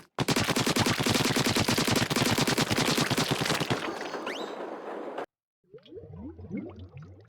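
Rapid bursts of bullet fire from an enemy in the Splatoon video game's debug content, a dense, loud machine-gun-like rattle that runs steadily for about five seconds, cuts out, then gives way to fainter chirping game effects.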